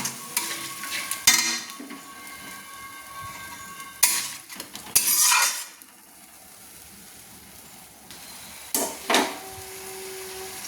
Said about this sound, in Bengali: মশলাটা যতক্ষণ না তেল ছাড়ছে, সুন্দর একটা গন্ধ বেরাচ্ছে, ততক্ষণ আমি মশলাটা নেড়ে নেব